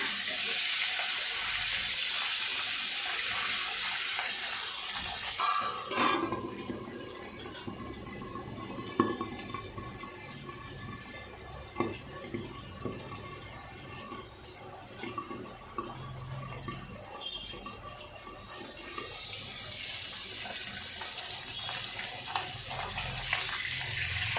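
Bata fish frying in hot oil under a covered pan, a steady hiss and sizzle with a few crackles. The hiss is brighter where the lid is off at the start and end and muffled in between.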